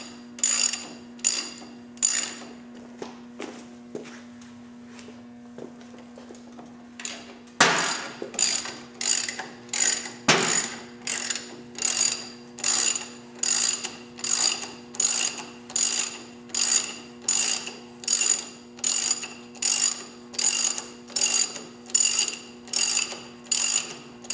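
Ratchet snugging bolts while fitting front air ride on a Victory motorcycle: quiet fiddling, then a long even series of sharp close ratchet clicks at a steady rhythm over a faint constant hum.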